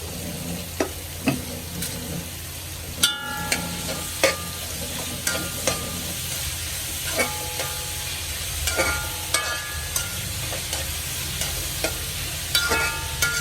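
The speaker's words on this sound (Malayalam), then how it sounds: "അരിഞ്ഞു വെച്ച സവാള ഇട്ട് കൊടുക്കാം. ഇത് നന്നായിട്ടൊന്ന് വഴട്ടിയെടുക്കാം." Sliced onions sautéing in a pan with salt for a chicken curry, a steady sizzle broken by a dozen or so sharp scraping stirs of a spoon against the pan, close and clear with no talking.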